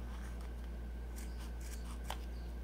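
Scissors cutting crochet yarn wound around cardboard to make fringes: a few faint, brief snips over a low steady hum, quiet and close.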